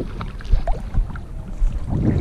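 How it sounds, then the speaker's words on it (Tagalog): Strong gusty wind on a Qatar shoreline during shore jigging buffets the microphone with low rumbling roar, rising and falling in waves throughout. "medyo malakas yung hangin"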